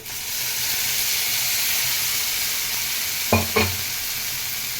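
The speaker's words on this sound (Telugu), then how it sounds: "ఇప్పుడు టమాటా పేస్ట్ వేసుకుందామండి" Tomato paste goes into a hot pan of oil with curry leaves: a continuous close sizzle with steam hiss, broken by two quick knocks of a spoon against the pan near the end.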